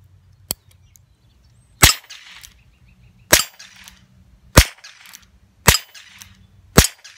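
.22 Short rounds fired from a Heritage Rough Rider revolver: one small tick followed by five sharp, loud cracks spaced about a second apart, with quiet handling noise between shots and no talking.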